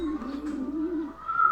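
Racing pigeons coo in a low, throaty, rolling murmur, close and clear for a moment during a training release.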